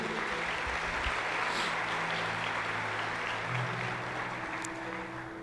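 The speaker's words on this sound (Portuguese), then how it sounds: "Você pode aplaudir a Jesus aí?" A church congregation gives a steady wash of applause for Jesus during a Portuguese-language sermon, a dense even patter that fills the room without a break and eases off slightly toward the end.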